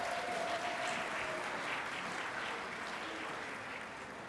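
Applause from a large crowd at a jigsaw puzzle competition, a broad, even wash of clapping that sounds somewhat distant and fades slightly toward the end.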